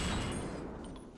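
Gunfire in the shooter game SYNTHETIK 2: a quick burst of loud, dense shots blending into a short rumbling tail, close and without any talk, lasting about a second.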